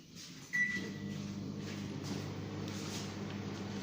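A microwave oven heats coffee with a steady low hum, preceded by a brief high beep and a door-like clunk as it starts, quiet and continuous.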